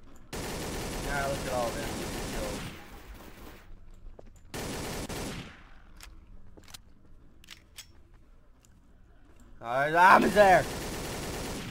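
Codename CURE zombie game with turret gunfire: a long steady burst, a shorter second burst, then a few isolated shots, with a player speaking over the end.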